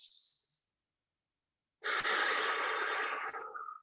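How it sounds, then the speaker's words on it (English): A deep breath drawn in during a grounding exercise, with a short airy exhale at the start, then a long, loud, close inhale lasting about two seconds, alone with no talk. "So breathing in."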